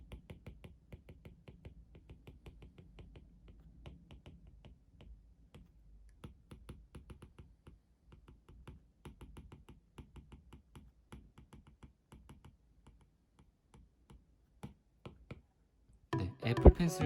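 A genuine second-generation Apple Pencil writing on a tablet screen in a quiet room gives soft, rapid, irregular taps and clicks, quiet throughout, before a louder rustle near the end.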